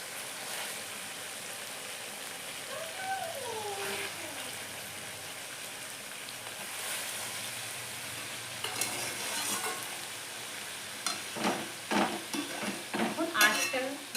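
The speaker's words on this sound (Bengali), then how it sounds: "আমি আদা রসুন দিয়ে অনেকক্ষণ ভেজে নিচ্ছি এখন আমি ভিতরে অ্যাড করবো হাফ কেজি চিকেন" Onion, ginger and garlic sizzle steadily in hot oil in a pan before half a kilo of chicken goes in, a continuous close frying hiss with stirring clatter growing busier toward the end, no voices.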